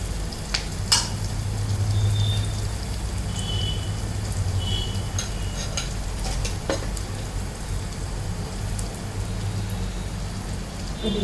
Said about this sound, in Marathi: कांदा चांगला परतला लाल झाला मग आपण टाकणार आहे त्याच्यामध्ये चवळी.